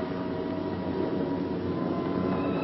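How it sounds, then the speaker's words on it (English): World War II B-17 Flying Fortress bomber engines approaching an airfield, a steady, dense droning roar heard from a distance, unbroken and without voices. "Every ear strains for the first sound of the engines."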